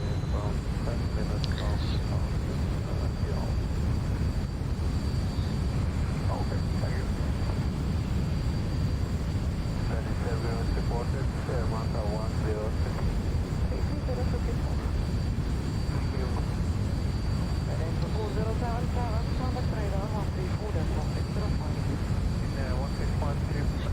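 A Ryanair Boeing 737 landing in the X-Plane 11 flight simulator drones with a steady, even engine and airflow rumble throughout, while a voice talks intermittently over it.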